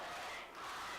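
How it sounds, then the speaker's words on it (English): A homecoming crowd at a high school varsity football game roars steadily from the stands, a dense, distant wall of cheering and yelling. "it's not deterring this crowd whatsoever as they are going crazy down in the stands"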